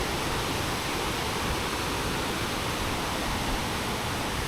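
Water flowing steadily at Panchanadi dam, a constant broad rushing wash that holds loud and even throughout with no voices.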